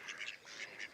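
Ducks quack beside water where they are being fed bread, a quick run of faint, nasal calls repeating in short bursts over about a second.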